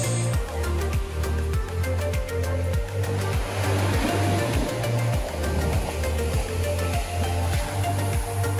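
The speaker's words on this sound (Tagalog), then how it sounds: "Ang lakas ng alon." Strong ocean waves at Boca Beach on Boracay make a steady, close roar of rushing surf, with a low rhythmic throbbing underneath and no voices.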